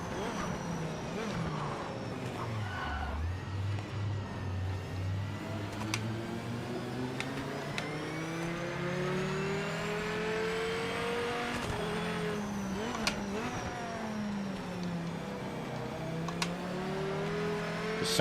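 An Aston Martin race car engine in the Project Motor Racing game, a steady rising and falling whine through gear shifts with faint tyre noise and ticks, sustained and mid-level, with no talk.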